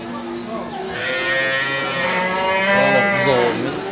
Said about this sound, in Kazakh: Бұзау сиыр